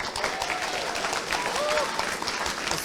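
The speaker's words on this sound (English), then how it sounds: "round of applause, ladies and gentlemen." Audience clapping at a presentation at Tech Games Fest 2017, with a steady, dense round of applause from a crowd filling the whole stretch, and voices faintly mixed in underneath.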